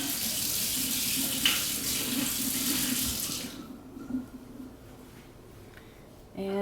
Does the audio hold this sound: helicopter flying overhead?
no